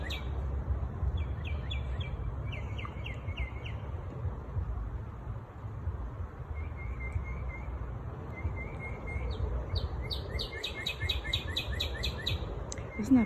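Several birds sing outdoors with repeated short chirps and trills, some near and some farther off. A low, steady outdoor rumble runs underneath, and no one speaks.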